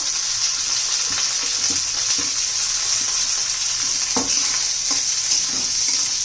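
Onion fries in a pan with garlic and white sesame seeds for a jowar flour soup, a constant close sizzle with scattered scraping taps of stirring and no voices.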